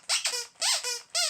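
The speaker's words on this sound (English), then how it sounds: "some kind of squeaky sack in the upper part of her beak" Short high-pitched squeaks from the squeaky sack in the upper beak of a puppet bird, several quick bursts in a row, close and fairly loud with no talking.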